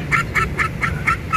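A duck following an old woman gives a steady run of about six loud, nasal honking quacks at an even pace, close by, with low rustling noise underneath and no talk.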